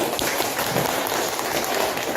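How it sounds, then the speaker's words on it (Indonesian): Participants in a teachers' coaching class clap together, a dense, steady patter of many hands without pause, fairly close and even in level. "Tepuk tangan."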